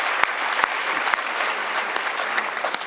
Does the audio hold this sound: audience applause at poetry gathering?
yes